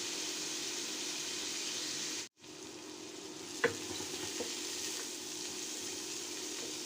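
Washed dried shrimp stir-frying in a pan with garlic and onion, a steady close sizzle with occasional scraping stirs and a brief pause partway through.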